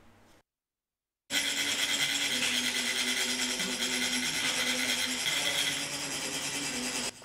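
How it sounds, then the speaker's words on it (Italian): A loud, steady metallic rasping scrape of a metal funnel pouring sand for a mandala runs continuously after a short moment of silence, gritty and unbroken, with a faint low hum underneath. "vengono raschiate per produrre vibrazioni sufficienti a far uscire i granelli di sabbia"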